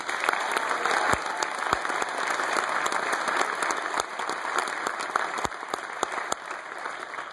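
Audience applause for band musicians at a school Christmas concert, a sustained patter of clapping with a few sharp, louder claps standing out near the listener.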